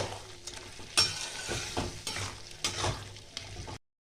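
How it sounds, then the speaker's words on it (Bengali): Moong dal being stirred in a pan, soft sizzling under repeated scraping strokes of a spoon, several distinct stirs at an uneven rhythm, fairly quiet, ending abruptly. "ডালটা দিয়ে ভালো করে একটু নাড়াচাড়া করে নিতে হবে"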